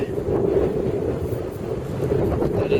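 Strong wind buffets the microphone in a steady, roaring rush, loud and close throughout with no voices.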